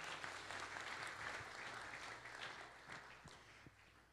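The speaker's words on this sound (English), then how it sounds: "Give the Lord a clap offering" A church congregation applauds during a Sunday service, giving a continuous, fairly soft and distant patter of many hands that slowly thins out over about four seconds.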